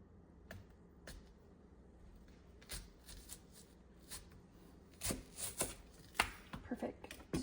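Knife work on food being peeled and cut during weekly meal prep, a quiet run of soft scraping strokes and sharp chopping taps, sparse at first and quickening toward the end.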